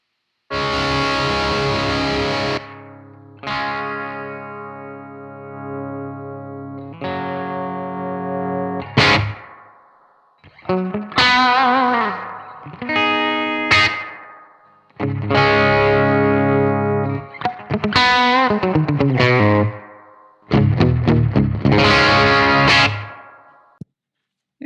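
Heavily distorted electric guitar through an EVH 5150 Iconic amp rings out in held chords and quick bursts, each tail washing away in the amp's reverb, loud and close with pauses between phrases.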